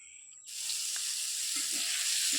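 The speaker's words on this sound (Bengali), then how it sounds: "তারপর এদিকে পটল ভাজা বসাইছি," Pointed gourd (potol) slices hit hot oil in a pan and a loud, steady sizzle starts abruptly, holding close and bright with faint clinks underneath.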